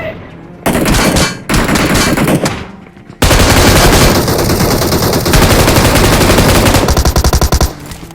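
Automatic gunfire rips through a PUBG squad fight, loud sustained bursts of rapid shots with brief gaps between them, near and dense, with no talking.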